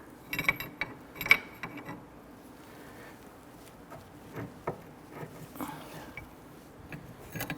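Wrenches work on a rusty, frozen outer tie rod of a 2006-2014 Honda Ridgeline steering rack. Close, irregular metallic clicks and scrapes come in scattered bursts over a quiet background.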